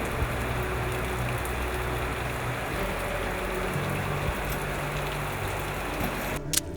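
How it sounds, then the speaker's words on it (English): Steady, dense hiss of rain falling in Lesotho, continuous and fairly loud throughout, with a low rumble underneath. "We just gotta wait until the rain stops."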